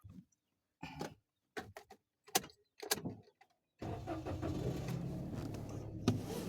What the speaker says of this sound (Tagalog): Tayo'y mag-start na ng kotse.